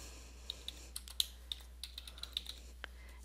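Typing on a computer keyboard to enter a topic name in Google Classroom: a quick, uneven run of light, close key clicks over a soft steady background hum, with no speech.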